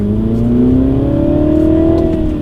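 A manual John Cooper Works Mini in sport mode pulls hard from inside the cabin, its engine note rising steadily in pitch for about two seconds before easing slightly, loud and continuous.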